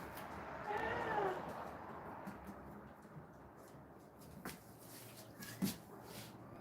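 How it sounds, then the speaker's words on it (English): A cat gives a drawn-out, whiny meow that is faint and somewhat distant, followed by quiet shuffling and a few soft bumps in an indoor room. "Anybody hear this cat crying?"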